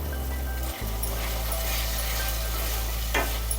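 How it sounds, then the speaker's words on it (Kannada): Roasted poha (flattened rice) stirred into hot jaggery syrup for poha kheer, giving a steady close sizzle and bubbling with a low hum under it and a brief scrape near the end, with no voices. "ಇವಾಗ ನಾವೇನು ಹುರಿದು ಇಟ್ಕೊಂಡಿರ್ತೀವಲ್ಲ ಅವಲಕ್ಕಿನ, ಸೊ ಇದನ್ನು ಈ ಪಾಕಕ್ಕೆ ಹಾಕೊಳ್ಳೋಣ"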